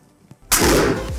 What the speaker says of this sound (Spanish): Ahora la botella se está inflando. A ver cuánto tiempo tarda en explotar.